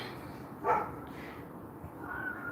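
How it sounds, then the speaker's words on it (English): A single dog barks down the street in a quiet residential neighborhood on a warm September evening, one short distant yip standing out briefly against a faint outdoor background. "There are quite a few dogs in this neighborhood."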